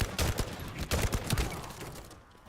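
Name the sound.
gunfire in the video game Fallout London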